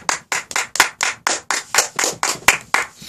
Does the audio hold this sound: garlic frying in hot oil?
no